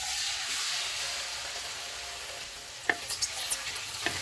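Chicken pieces frying in a pan with green cardamom, cloves and cumin over a full flame for Bombay biryani, a steady broadband sizzle with a few soft clinks and scrapes of stirring near the end.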